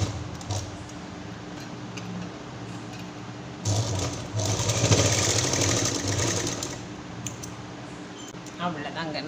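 A home sewing machine stitches a small key chain purse, its rapid, close mechanical whirring coming in a sustained burst midway between quieter handling sounds.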